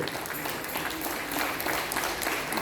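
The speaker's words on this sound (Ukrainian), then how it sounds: "ваши аплодисменты" An audience at a Belarusian folk festival claps steadily, a dense, even wash of applause from a crowd that fills the whole moment without a break.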